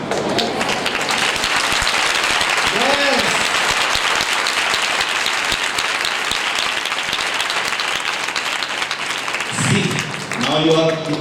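Sustained applause from a congregation at a revival meeting in Dhamtari, steady and dense throughout, with a few brief voices rising over it and a louder voice near the end.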